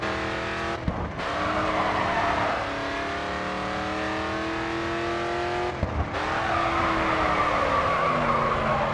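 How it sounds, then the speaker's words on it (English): Tires squeal in long sustained screeches as a race car drifts through corners in the Grid 2 racing game, engine droning underneath, the squeal briefly breaking off twice before resuming loud and close. "Timing right, drifting can be a good way of maintaining momentum through corners."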